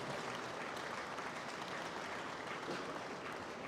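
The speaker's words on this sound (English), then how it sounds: "Let's give them a big round of applause" Audience applauding at an international Brahman bull show, a steady, dense wash of clapping from a crowd that holds evenly for the whole stretch without any speech over it.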